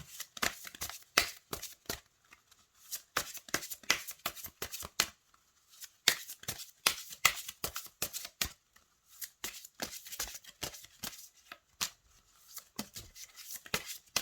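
Oracle cards are shuffled close by in quick, irregular bursts of crisp riffling and flicking, with short pauses between handfuls and no one speaking.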